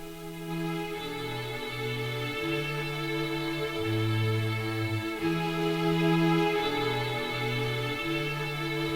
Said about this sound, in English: they took that guitar riff right there and made it sound like this